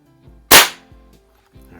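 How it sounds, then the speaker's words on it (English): A Crosman 1377 or Beeman 1330 air pistol with a built-in suppressor fires a single sharp, barky shot across a garage, loud and close, followed by a quick decay. "Just gonna shoot open sights across the garage here just to play around and see what we're doing"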